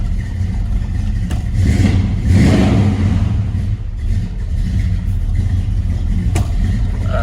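A 1971 Chevrolet Chevelle engine runs steadily and close by, with a low, rumbling idle that swells briefly into a rev before settling back to an even throb.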